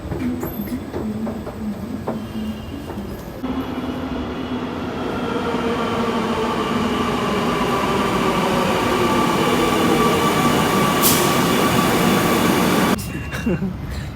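A Kochi metro train heading toward Aluva runs with a steady, close interior rumble and a rising electric whine as it speeds up, followed by a brief high squeal and a drop in noise near the end.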